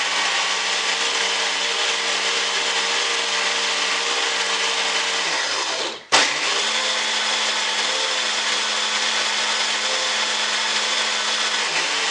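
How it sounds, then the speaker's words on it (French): A kitchen blender purées Turkish lentil soup with a steady high whirring roar, briefly dipping and surging midway as the load shifts, then continuing at an even pitch. "on va le mettre dans le mixeur et on va la mixer"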